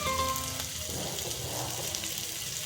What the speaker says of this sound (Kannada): ಉಳ್ಳಾಗಡ್ಡಿ ಎಲ್ಲ ಫ್ರೈ ಮಾಡ್ಕೊಳ್ಳೋಣ್ರಿ ಚೆನ್ನಾಗಿ.